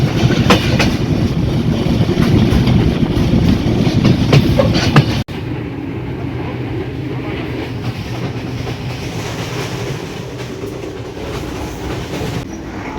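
A train on a railway line between Khulna and North Bengal rushes past close by, a loud steady roar with wheel clatter that drops in level partway through, then continues as a softer rolling rumble.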